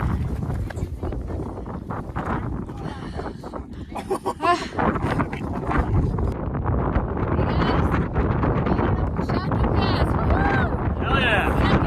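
Strong wind gusting across an exposed mountain pass in the Wind River Range, buffeting the microphone in a steady loud roar that rises toward the end, with voices talking intermittently underneath.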